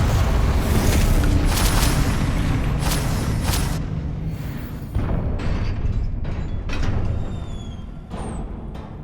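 A Confringo blasting spell in Hogwarts Legacy explodes with a loud, rumbling burst at the start that slowly fades, followed by a few smaller crackling impacts and a lingering shimmer.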